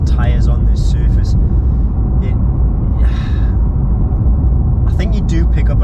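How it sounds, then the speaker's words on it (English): Tyre roar from a Porsche 992 without sports exhaust rolling over rough tarmac, a steady loud low rumble heard from inside the cabin, with someone talking over it throughout. "I think you do pick up a lot of road noise through this car"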